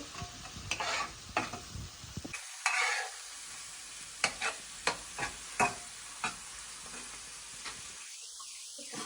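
Spice paste frying and being stirred in a pan for a pabda fish curry, steady sizzle broken by a series of sharp scraping stirs, close and moderately loud, with no talk.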